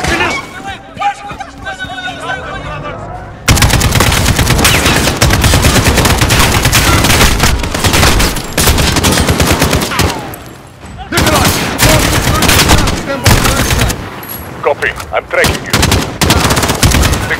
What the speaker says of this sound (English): Williams, check your fire!